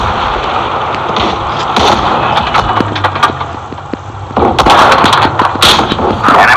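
Video game tank battle with cracking gunfire and sharp shell impacts, loud and close, scattered shots and clustered bursts over a rumbling engine background.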